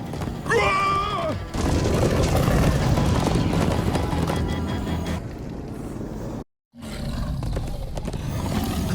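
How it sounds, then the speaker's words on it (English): Horses gallop with loud, rapid hoofbeats and snorting in the Minecraft: Story Mode video game, a dense pounding rush broken by a brief silent gap before resuming. "Come on, horses!"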